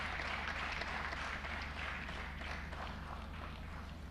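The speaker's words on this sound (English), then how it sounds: "That clapping is not adequate for the chief guest that we have." An audience at a Uganda Day of the Girl Child commemoration claps for the chief guest, steady dense applause from a crowd, fairly faint and distant, continuing evenly throughout.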